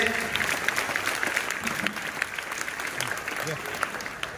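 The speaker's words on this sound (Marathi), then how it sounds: "जोरदार टाळ्या पाहिजे" An audience at a school ceremony honouring scholarship students gives a student sustained applause. Dense clapping runs steadily throughout, with faint voices mixed in.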